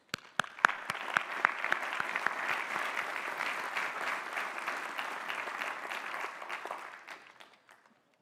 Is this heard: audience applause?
yes